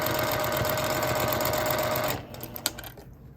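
A sewing machine stitches a quilt piecing seam in a fast, steady mechanical whir, close and loud, then stops and leaves a few faint clicks and handling sounds.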